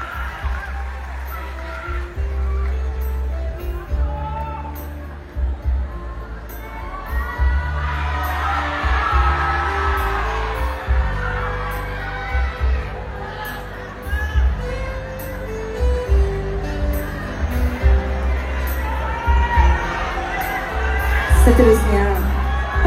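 Crowd applause and cheering for a contestant at the Unduk Ngadau 2023 state-level pageant, a loud, sustained roar of clapping and shouts with whoops rising and falling throughout.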